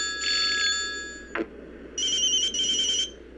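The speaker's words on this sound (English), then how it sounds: "A more old-fashioned sounding phone ringing." An old-fashioned phone ringtone from Silent Hill: Shattered Memories sounds as a clear electronic bell trill that pauses briefly and then rings again in two short bursts, heard alone.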